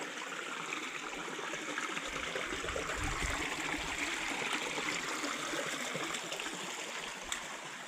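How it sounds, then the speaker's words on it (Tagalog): A shallow creek flows steadily over stones beside a path, making a continuous broadband rush and trickle that stays fairly close and even throughout, with no voices. "itong sapa na ito"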